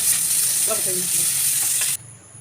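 Onion fries in a wok of hot oil seasoned with panch phoron, a loud, dense sizzle that cuts off sharply near the end. A voice is briefly heard underneath.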